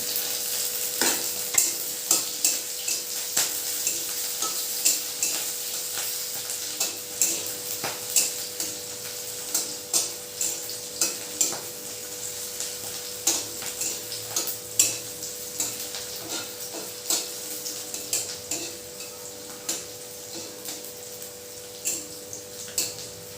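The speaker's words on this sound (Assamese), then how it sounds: "তেলখিনি গৰম হৈছে, পিঁয়াজখিনি দি দিলোঁ, জলকীয়া 3টা দি দিলোঁ।" Onions and three green chillies frying in hot oil, a steady close sizzle with repeated scraping stirs of a spatula against the pan throughout.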